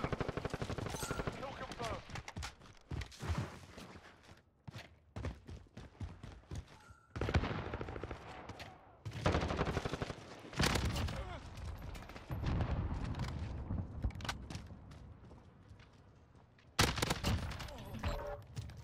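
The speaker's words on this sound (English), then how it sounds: "All my shots hit that time." Gunfire from an AUG SMG in Modern Warfare comes in repeated bursts of rapid automatic shots with short pauses between them, moderately loud, interleaved with a player talking.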